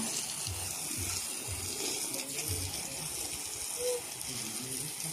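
Steady rush of running tap water while a carpet is being washed outdoors, a continuous moderately loud splashing flow with faint low thumps underneath and no clear speech.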